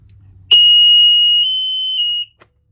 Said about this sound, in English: That alarm is really loud.